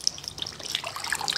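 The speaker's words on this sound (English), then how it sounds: "Let's flow some water." Water beginning to flow into a deionized water tank for spot-free RV washing, a faint, bubbly gurgle and trickle with irregular splashy spurts over about a second.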